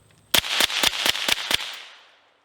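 A USFA Zip 22 pistol fires a rapid string of six loud sharp shots in about a second and a half, followed by a ringing echo that fades out.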